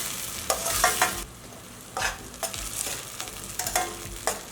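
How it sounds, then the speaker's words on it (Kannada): Tamarind juice simmers over a medium flame in a spiced tempering for Davangere-style puffed rice, giving a soft, steady sizzle broken by short bursts of stirring every second or so, with no voices. "ಹುಣಸೆ ರಸ ಸ್ವಲ್ಪ ಬೇಯಬೇಕು ಒಗ್ಗರಣೆಯಲ್ಲಿ."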